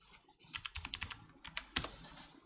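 Close, quiet computer keyboard typing of a file path: a quick run of crisp key clicks, a short pause, then a few more taps with one heavier keystroke, with no talking.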